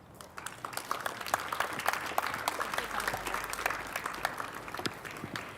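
An audience applauds at an evening community gathering, the claps sharp and individually distinct, steady and fairly close throughout with faint murmuring underneath.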